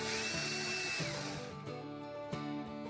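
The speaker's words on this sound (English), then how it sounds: "Let's drill through the skull cap and into the block and into the plaque." A cordless power drill bores through a deer skull cap into a wooden mounting block, a steady high whine up close that bogs and slows partway through, with a short knock near the end.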